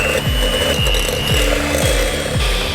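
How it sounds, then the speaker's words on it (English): Sugar and two bananas whisked together in a bowl, the whisk scraping in a steady, loud rhythm of strokes roughly twice a second, with no voices. "and whisk"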